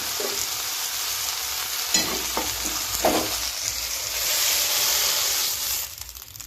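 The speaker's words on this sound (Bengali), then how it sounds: "দেখুন ভেন্ডিটা খুব ভাজা হয়ে গেছে ভেতরটা পুরো শেষ হয়ে গেছে" Okra (bhindi) frying in hot oil, a steady loud sizzle with a few scraping stirs of the spatula partway through, cutting off near the end.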